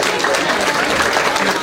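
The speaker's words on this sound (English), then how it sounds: "Please give him a round of applause" A dense, continuous wash of clapping from a crowd, loud and steady throughout, with voices mixed into the noise.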